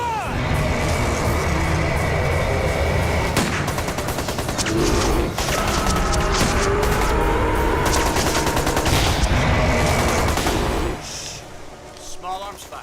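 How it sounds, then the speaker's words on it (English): Small arms gunfire close by in a dramatic sea-chase scene, a dense rattling fusillade of rapid shots with shouting voices, loud and sustained before dropping off near the end. "Small arms fire. It's close."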